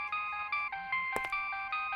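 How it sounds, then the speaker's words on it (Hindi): A mobile phone ringtone rings in a police office setting, a repeating bright electronic melody in short phrases, steady and fairly loud, with a brief clatter partway through. "हमारी मैडम का फोन बज रहा है"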